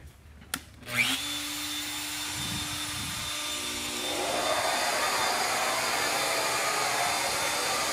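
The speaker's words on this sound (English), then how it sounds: "So it's going to take a roughing pass to full depth all the way around." A Shaper Origin handheld CNC router cuts a full-depth roughing pass around a sink opening in sheet goods. A spindle whine spins up, then a loud, continuous cutting roar holds steady throughout.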